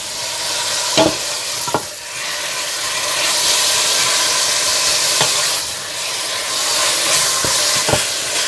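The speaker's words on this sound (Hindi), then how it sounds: "ऑयल गरम करें और चिकन को उसमें डालकर भून लें" Marinated chicken frying in hot oil makes a loud, constant sizzle and hiss. Sharp clicks and knocks from stirring come through it every few seconds.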